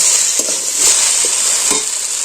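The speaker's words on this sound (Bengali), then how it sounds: "দিয়ে দিচ্ছি হাফ চামচ জিরা গুঁড়ো আবার এটাকে আমি নেড়ে চেড়ে কষিয়ে নিচ্ছি" Grated carrot filling with cumin powder sizzling loudly in a hot pan, bright continuous hiss broken by a few soft stirring scrapes.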